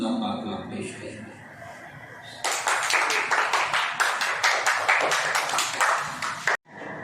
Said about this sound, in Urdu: آپ سب کی تالیوں کی گونج میں سامنے تشریف لائیں گے